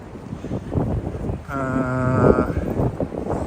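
Wind buffets the microphone beside a river in Tokyo on a gusty day, a steady low rumble that swells loudly toward the end, with a brief tonal sound briefly rising above it midway.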